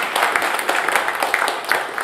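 Audience applause after a live folk music set on a radio show stage, a steady dense wash of clapping from a seated crowd, sustained and even throughout with no talk over it.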